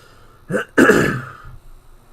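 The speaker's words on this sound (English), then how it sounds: "Sorry if that coughing or clearing my throat sounded horrible on the mic." One person coughs sharply and then clears their throat close to a microphone, two quick raspy bursts followed by fainter rumbling breaths in an otherwise quiet room.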